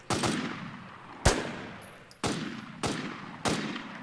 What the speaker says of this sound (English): I use like freaking five rounds to try to hit a zombie.